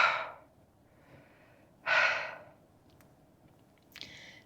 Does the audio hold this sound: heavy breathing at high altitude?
yes